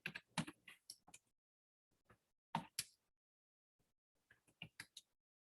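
A command being typed on a computer keyboard, crisp close key clicks in quick bursts separated by short pauses, in an otherwise quiet room.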